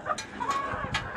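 A pair of domestic ducks, a male and a female, give a few short, close calls in quick succession over a brief span.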